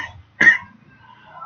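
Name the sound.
teacher coughing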